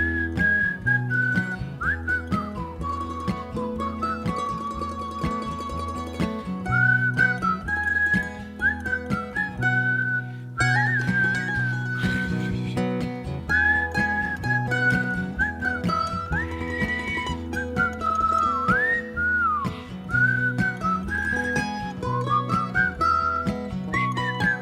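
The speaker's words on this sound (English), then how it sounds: "You can whistle along at home." People whistle along to a live acoustic song performance, with a steady, clear whistled melody carried over the accompaniment for a long stretch, loud and close.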